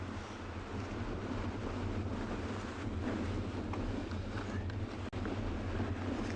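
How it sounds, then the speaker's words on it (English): Strong wind buffets an outdoor microphone on an evening safari drive at Tswalu, a steady roaring rumble that continues without a break, with no speech. "wind ain't getting any softer"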